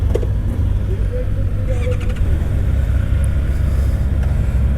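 A Honda four-cylinder motorcycle engine, at an outdoor Honda motorcycle event, runs with a loud, steady low rumble throughout; people talk in the background.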